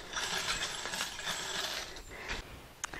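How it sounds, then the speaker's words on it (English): A brass mower tool rolls over .223 shell casings and scoops them up, producing a quick rattling, ratcheting clatter with metallic clinks of brass, close by and ending in a sharp click. "I'm using a brass mower to pick up these 223 shells."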